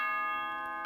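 A bing bong chime from Danganronpa Trigger Happy Havoc, a bright sustained tonal ring held clearly and alone for just under a second before a soft onset at the end.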